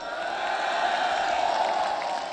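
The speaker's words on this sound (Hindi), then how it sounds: "आज आपके लिए लोग तालियां बजा रहे हैं" Crowd at a political rally applauding steadily, a dense continuous wash of clapping and cheering without pause.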